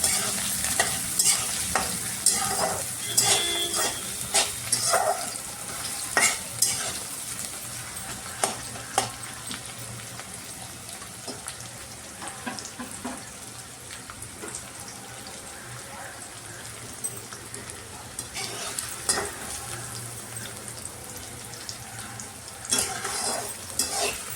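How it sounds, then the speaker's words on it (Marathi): Onions frying and being stirred in a pan while cooking until pink for a coconut chicken curry, a steady sizzle with intermittent scraping and stirring clatter, some faint tap-water sounds in the background. "कांदा चांगला गुलाबी रंग होईपर्यंत आपल्याला चांगला शिजवून घ्यायचा आहे"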